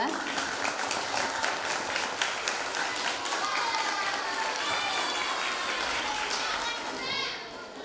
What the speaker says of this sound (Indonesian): Tepuk tangan untuk kelas 11-2.